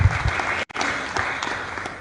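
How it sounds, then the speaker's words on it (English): Audience applause at a formal commemorative function honoring a chairperson, a steady dense patter of many hands filling the room, briefly cutting out for a moment before resuming at an even level. "Another round of applause for the chairperson"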